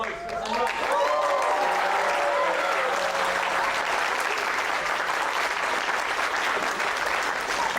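An audience at a caricature talk event claps and cheers loudly, a dense sustained roar of applause and crowd noise with some voices shouting at the start.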